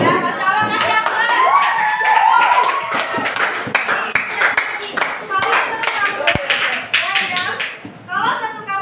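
A classroom of junior high school students claps in applause for a teacher during a lesson, dense and continuous clapping with a few excited voices mixed in, fading toward the end.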